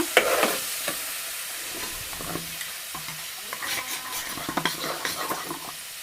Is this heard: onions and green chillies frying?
yes